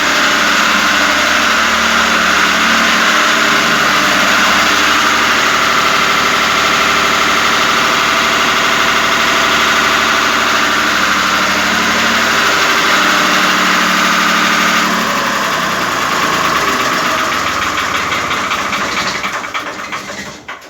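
A Lister TS3 diesel engine idles noisily and steadily at close range with a constant mechanical drone, which changes character and fades out near the end.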